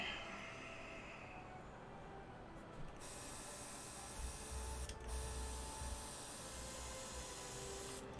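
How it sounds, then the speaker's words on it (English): A small airbrush compressor hums steadily for several seconds at an airbrush station used for painting tabletop terrain, a faint continuous mechanical drone with brief bursts of sprayed air hissing over it. "there's something very zen about like the little compressor and the noise it makes"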